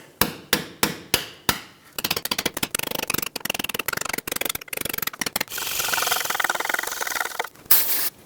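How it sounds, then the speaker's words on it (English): Hammer and chisel chipping a broken ABS sensor out of the rear hub of a 2013-2020 Nissan Pathfinder, with five loud spaced metallic blows followed by a quick rattling run of strikes and a stretch of grinding scraping, close and without voices. "I'm going to chisel some of this broken stuff away."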